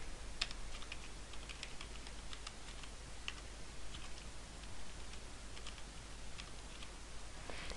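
Someone types account information on a computer keyboard, a quick irregular run of light clicking keystrokes, fairly close and quiet, with no talk.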